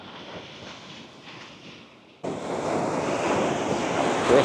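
Ocean waves at Virgin Beach in Bali wash in as a steady broadband rush that swells louder partway through, with some wind buffeting the microphone and no voices.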